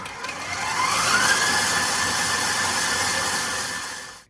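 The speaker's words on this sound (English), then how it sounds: "if you're doing this in a KitchenAid mixer, make sure to turn it off and scrape the sides and then whisk it all again" A KitchenAid stand mixer whisks cookie dough, giving a steady motor whir whose pitch rises briefly as it speeds up, then holds even and close until it cuts off.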